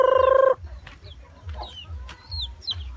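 Farm chickens on a rural Cebu holding cluck and cackle near the mic, with a short sustained rooster-like call at the start, then scattered clucks and low grunting over a quiet outdoor background, no talk.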